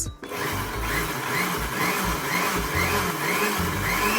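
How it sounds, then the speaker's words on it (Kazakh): A blender whirring through chopped strawberries for syrup, a steady close motor drone with a rhythmic pulsing churn as the fruit circulates. "Клубниканы турап алып, блендердің ішіне салып, араластырып аламыз"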